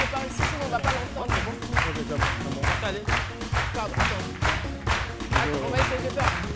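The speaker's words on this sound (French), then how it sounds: "on l'applaudit très fort" Studio audience on a midday talk show claps hard for a guest, with rhythmic, fairly unison clapping running steadily under chatter and voices.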